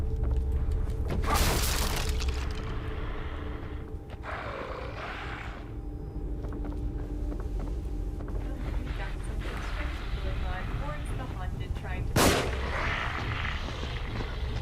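Gunfire in The Evil Within horror game: a couple of sharp loud shots, one early and one near the end, over a dark ambient rumble with shouting voices in between.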